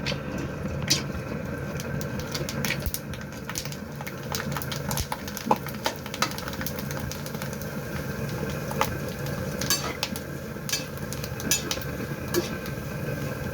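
Oil sizzles and crackles steadily as chips fry in a kadai, with sharp pops breaking through a constant frying hiss.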